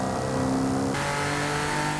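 A car engine revs in Forza Horizon 5 during upgrade work, a steady mid-pitched drone that shifts to a brighter, harsher tone partway through, loud and alone without speech.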